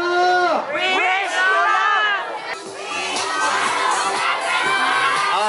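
A large crowd of children at a Wish 107.5 radio bus event in Tagum shouts and cheers the station name in loud repeated bursts, voices rising and falling together.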